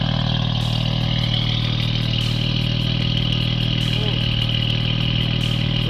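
Exhaust of a brand-new BMW F80 M3 droning steadily at a low, even rumble from inside or near the car, constant loudness with no clear revs.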